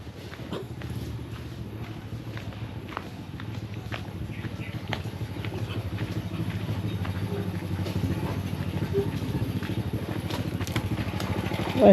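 A motorcycle engine runs with a low, steady putter, rising slightly near the end, with faint voices and footsteps around it.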